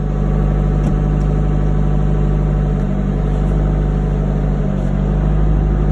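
An old little truck's engine runs with the revs held high, a loud, continuous droning roar with a steady low hum and slight fluctuations, heard close from inside the cab with no talking.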